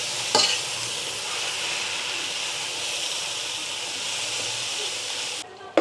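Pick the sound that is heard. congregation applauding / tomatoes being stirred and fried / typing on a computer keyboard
tomatoes being stirred and fried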